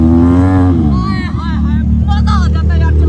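A heavy motorbike engine revs loudly close by, its deep rumble rising and falling while a person speaks over it.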